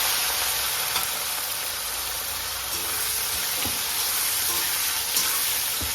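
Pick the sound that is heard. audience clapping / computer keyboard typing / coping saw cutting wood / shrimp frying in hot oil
shrimp frying in hot oil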